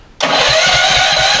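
A small cyclekart engine catches abruptly and runs straight into a loud, steady, close chugging idle with a fast regular pulse.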